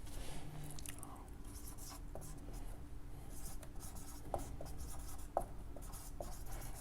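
Writing a definition on a board in a class 11 physics lesson: soft, scratchy strokes with occasional light taps, quiet and close, with no one talking.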